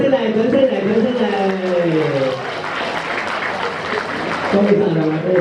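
Wedding guests applaud as the couple cuts the cake, a swell of clapping rising beneath an emcee's steady amplified voice and then fading back under the talk.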